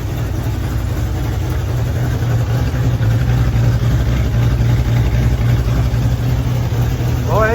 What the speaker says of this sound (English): now you can actually hear the exhaust out of the back of the car